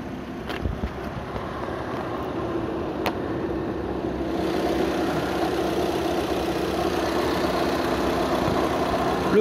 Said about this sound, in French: phase de régénération du FAP active, moteur chaud. Donc le ralenti monte à presque 1000 tours minute.